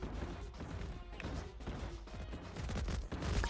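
Gunfire in RoboSquad Revolution as a teammate is shot in the back: a quick, dense run of punchy shots and impacts, fairly close and continuous over a few seconds.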